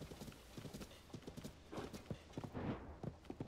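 Rhythmic hoof clip-clops of a horse in The Legend of Zelda: Tears of the Kingdom moving at a steady trot, close and fairly loud, with a brief whinny-like sound partway through.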